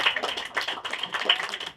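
Applause from an audience at a museum event on emancipation, a dense patter of hand claps filling the room for under two seconds, steady and fairly close.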